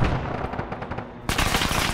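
Gunfire in the Arma 3 military game, a rapid burst of cracking automatic shots followed by a second louder and sharper volley, close and harsh, with no voices.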